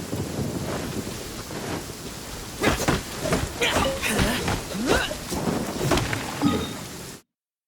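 Rain falls steadily in Genshin Impact while thunder cracks and rumbles through the downpour in several close, uneven bursts before the sound cuts off abruptly.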